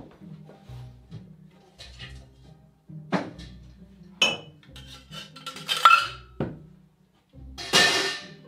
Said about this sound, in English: get your shaker and pour in 4 to 5 ice cubes